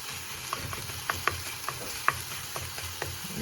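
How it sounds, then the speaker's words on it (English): Onions and rice sizzle and fry in a pan while a spoon stirs through them, giving irregular scraping clicks and taps over a constant low frying hiss. "So now the onions and the rice gets mixed in"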